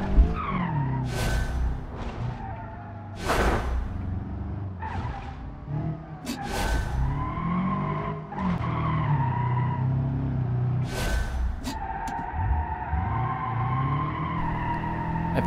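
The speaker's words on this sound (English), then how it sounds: "these tires have no traction at all. I keep spinning every time in acceleration" Front-wheel drive car in the BeamNG driving game with tires lacking traction, spinning and skidding under acceleration: repeated loud tire squeals and screeches over a revving engine, several bursts close up.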